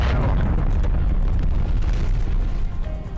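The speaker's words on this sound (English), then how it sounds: "Artillery targeting detected. Artillery inbound." Artillery strike explosions in Call of Duty Black Ops Cold War rumble as dense, continuous booming bursts, a loud low-heavy barrage with crackling debris layered over the game's other sounds.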